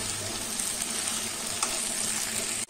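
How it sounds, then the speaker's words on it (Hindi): Potatoes fry with spices in a pan as stuffing for aloo paneer gujiya, giving a steady, close, loud sizzle and crackle with a faint stir near the end. "आलू को इन सामग्रियों के साथ 2 मिनट तक फ्राई करेंगे।"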